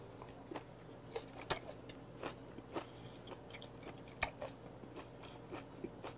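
Someone chews raw beef with aged kimchi, producing irregular wet crunches and bites spaced over several seconds, close up with a low background hum and no talking.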